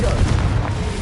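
A Confringo explosive spell going off in Hogwarts Legacy, a loud, heavy boom with a sustained low rumble filling the whole second.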